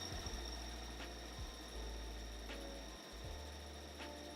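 A sewing machine stitches a bag seam at 1 centimetre with a quiet, steady mechanical whir and a faint rhythmic hum, broken by a few soft clicks as the fabric is guided; nobody speaks.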